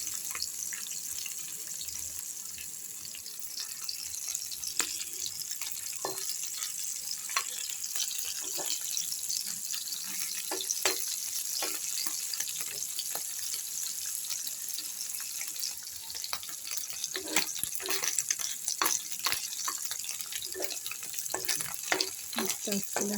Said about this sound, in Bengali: মাছটা ভেজে নিতে হবে ভালো করে।